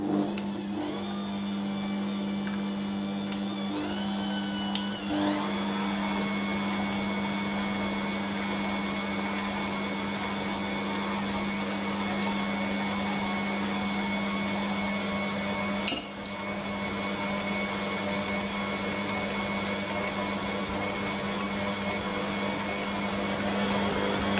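An electric mixer kneads beignet dough made of flour, yeast and egg, running with a steady loud motor drone throughout, its pitch rising as it spins up early and holding steady with a brief dip partway.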